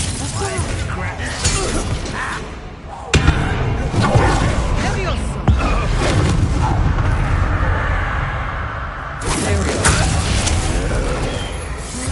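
The Bombarda blast spell in Hogwarts Legacy goes off as a loud, sudden burst with shattering debris, amid steady game sound and a voice speaking.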